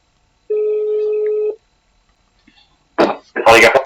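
A phone line on a callback rings with one long, steady electronic tone lasting about a second, then a short faint blip, before a brief burst of voice-like sound at the end.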